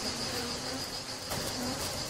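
Bees buzzing as they leave their hive, a steady, dense insect drone that holds evenly throughout without pause.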